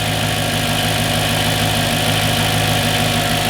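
A tuned Mercedes C55 AMG engine idles steadily and evenly, a smooth low rumble heard up close in the engine bay with no other sounds.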